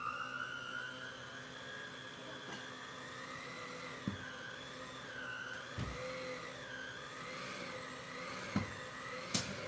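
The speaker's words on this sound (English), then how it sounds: "fit the mixer with the dough hook and mix on low for 6 minutes" Stand mixer fitted with a dough hook kneading pizza dough on low speed, a steady motor whir with a wavering pitch running throughout, with a few soft thumps of the dough against the bowl.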